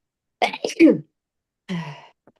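A sneeze-like burst of vocal sounds, followed after a pause by a shorter breathy vocal noise, close by with quiet around it.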